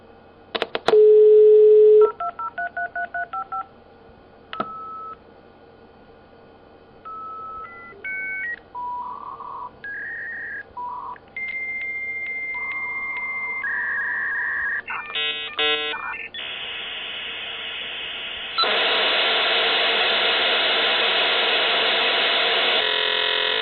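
A dial-up modem dials out with a string of touch-tone beeps, then screeches through its handshake tones before settling into a loud hiss of connection noise.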